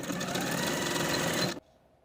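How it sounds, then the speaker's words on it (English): A sewing machine runs steadily, stitching back and forth over overlapped elastic ends for underwear leg bands, close and loud for about a second and a half before stopping abruptly into near silence. "stitch in place back and forth a few times to secure"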